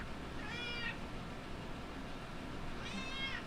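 An unhappy cat gives two drawn-out, complaining meows about two seconds apart, moderately faint against a steady background hiss, with no talking.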